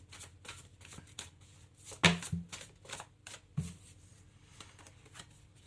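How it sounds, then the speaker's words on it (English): Tarot cards shuffled and pulled from a deck, close by with quick papery riffles and a few sharper snaps, fairly soft and alone. "Let's pull one more card out."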